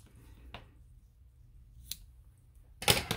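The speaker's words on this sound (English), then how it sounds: "Grab my fabric scissors again." Fabric scissors snip ribbon a few times in a quiet room, with a faint cut early, another in the middle, and a louder crisp cut at the end.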